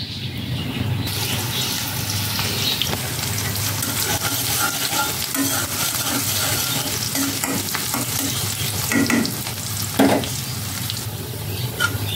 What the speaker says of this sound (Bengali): তো এখানে তেলের মধ্যে আস্ত জিরে দিয়ে দিয়েছি। এখন দিয়ে দিব পেঁয়াজ কুচি আর মরিচ।